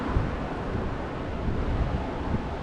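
Strong gale wind blowing at a sea shore during a storm, a steady dense roar of gusting air and buffeting against the microphone, continuous and loud with no pauses.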